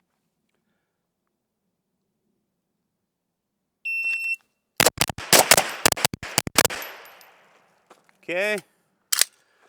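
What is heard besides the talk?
gunshots at a shooting range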